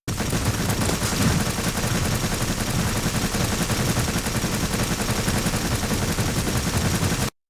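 The Death Cube sentinel's gun in Warframe fires in a dense, near-constant rattle of rapid shots, steady and unbroken for several seconds, with no talking.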